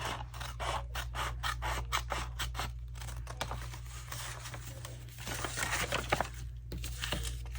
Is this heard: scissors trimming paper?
yes